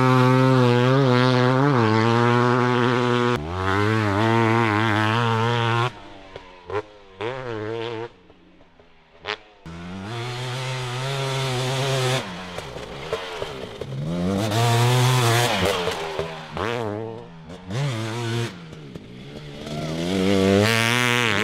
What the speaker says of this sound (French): La sonorité du bloc BRC.